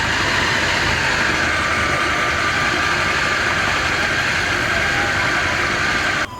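A kitchen food processor blends pork mince with chopped shiitake mushrooms into a paste, giving a loud, unbroken motor whir close by that holds steady throughout, then drops off abruptly at the very end.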